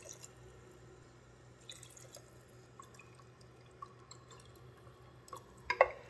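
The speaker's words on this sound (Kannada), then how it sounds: "ಸೊ ನೀರು ಹಾಕ್ತಾ ಇದ್ದೀನಿ" Water is poured into a pot while cooking mutton biryani at home, heard as faint, sparse trickles and drips in a quiet kitchen, with a louder splash near the end.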